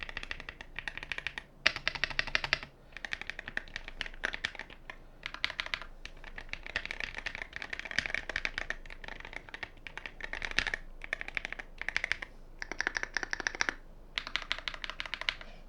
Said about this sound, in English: it's not a mechanical keyboard, it's a magnetic switch keyboard, so it doesn't sound that talky, but it still sounds good